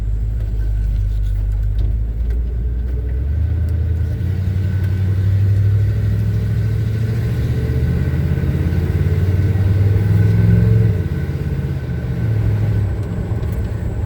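A 1978 Chevy C10 truck drives slowly through a neighborhood, its engine giving a steady, loud, low rumble heard from inside the cab with no talking.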